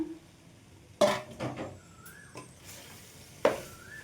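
Cooked rice stirred into mint paste in a pan: two sharp metal spoon knocks against the pan with soft scraping and a light sizzle between them, close and quiet, no talk.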